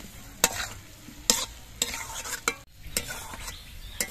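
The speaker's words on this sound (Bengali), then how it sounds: "এবার আলু দিয়ে মশলাটা দিয়ে আরো কিছুক্ষণ কষিয়ে নিতে হবে।" Fried potatoes being stir-fried in spice paste for a snakehead fish curry, with rhythmic spatula scrapes and clacks against the pan over a steady soft sizzle, heard up close with no talking.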